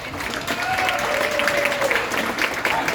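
A crowd at a fan convention panel gives a round of applause for a guest named Bluey, steady clapping for a few seconds with a voice briefly over it.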